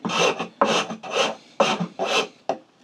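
A rasp files across wood in six quick, close strokes, each a harsh rasping scrape followed by a short pause, with no talking.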